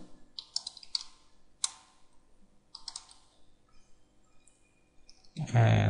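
Light clicks and taps from a computer keyboard come in short clusters, quiet and close by, and a louder broadband burst of noise ends the sequence.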